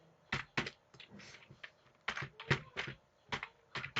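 Profile text is typed on a computer keyboard in quick, uneven bursts of crisp key taps. The taps are close and fairly quiet, and no one speaks.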